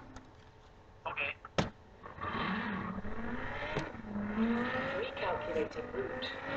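A car engine revs and accelerates during a drag race in Forza Horizon 3, rising and shifting in pitch at moderate loudness, with a few sharp clicks early on and faint game sounds underneath.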